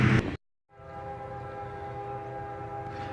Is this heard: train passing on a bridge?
yes